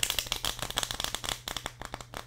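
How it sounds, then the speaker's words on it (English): Playing cards shuffled in the air, giving a quick run of sharp, crackly flutters and snaps repeating steadily for a couple of seconds with no talk. "And this is now my preferred way of shuffling."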